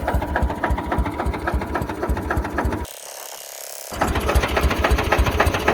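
A farm tractor engine idling unattended by a roadside, a steady rapid mechanical chugging that runs loud and close, briefly dropping away for about a second before resuming at full strength.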